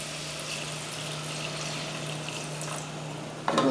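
Water is poured into a pot of Indian chicken curry with onions, a steady rushing stream running close and even, ending in a brief clatter.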